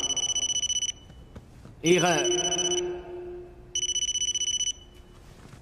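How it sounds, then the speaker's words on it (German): A mobile phone rings in a film scene, with two bursts of bright repeating electronic trills separated by a gap where someone speaks briefly, then the ringing resumes. "Würden Sie bitte Ihr Telefon ausschalten?"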